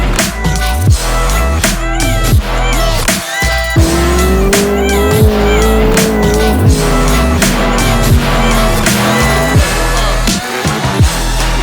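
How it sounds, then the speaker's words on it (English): A 1500-horsepower-capable LS V8, freshly rebuilt with new pistons and bearings and swapped into an E36 BMW, runs loud and close in a dense, continuous roar whose tone climbs and dips with the revs. "This is our 1500 horsepower capable LS engine"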